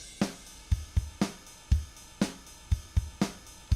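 Drum part played back in Cubase with ride cymbals added: steady kick and snare hits, each with a cymbal wash on top, in a moderate regular rhythm, clean and alone.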